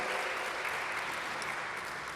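An audience at a city venue announcement applauds in an even, continuous wash of clapping from many people, sustained and fairly distant, with no voices above it.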